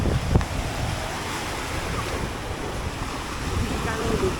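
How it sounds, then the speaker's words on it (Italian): Strong wind roars steadily across the microphone beside the sea at Vlorë, Albania, with broad surf and rushing air filling the whole stretch, no clear voices. "C'è un sacco di vento, ragazzi"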